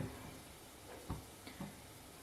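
Donut dough balls frying in hot oil, a faint, soft sizzle with a few small pops and splashes as pieces are dropped in, quiet and close.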